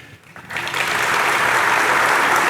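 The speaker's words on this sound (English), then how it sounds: "Hearty round of applause." A crowd at a university convocation breaks into loud, sustained applause after a brief quiet moment, steady dense clapping filling the room.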